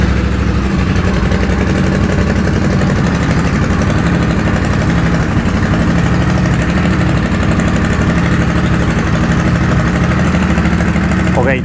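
A Triumph Bobber motorcycle idling through a Motone H-Bomb exhaust with baffles fitted, a loud, steady, close burbling rumble throughout with no revving.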